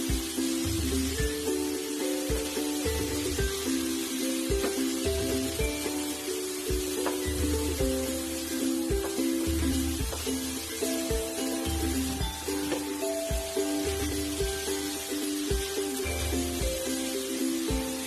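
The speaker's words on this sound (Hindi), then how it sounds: "इसको हमें गुड़ मेल्ट होने के बाद 1 से 2 मिनट के लिए अच्छे से फ्राई करना है।" Modak stuffing of melted jaggery frying in a pan, steady soft sizzle and bubbling with occasional stirring scrapes, close and continuous.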